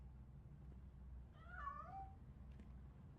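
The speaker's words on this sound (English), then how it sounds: "That cat must be hiding inside. Let me lure it out." A cat in the RoboCop video game gives one drawn-out, wavering meow, faint and fairly close over a low, steady background hum, with nothing else beside it.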